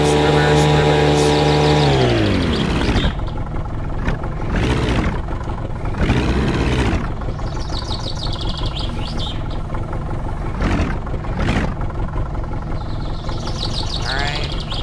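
A car engine in the My Summer Car video game revs and falls off, then settles into a steady, close mechanical drone with a few brief surges.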